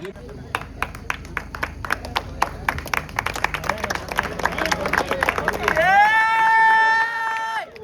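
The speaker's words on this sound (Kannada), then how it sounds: "ಜೋರದ ಚಪ್ಪಾಳೆ" Crowd clapping at a running race prize ceremony, brisk rhythmic claps building among a murmuring outdoor crowd, then giving way to a sustained tonal horn-like sound near the end.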